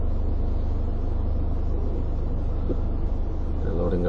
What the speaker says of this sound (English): They're loading a truck down there right now.